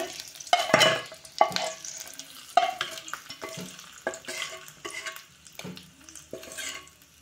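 Hot tempering stirred into mint chutney with a spoon, crackling sizzle and clinks of the spoon against the bowl in uneven strokes, close, with no talk.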